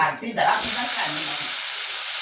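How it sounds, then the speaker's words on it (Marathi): Eggplant pieces sizzle in hot oil with golden fried onions for a spicy Marathi-style vangyachi bhaji: a steady, close, hissing fry that builds after a brief clatter and holds evenly to the end. "वांगी चांगली तेलावर भाजून घ्यायचे आहेत म्हणजे परतून घ्यायचे आहेत"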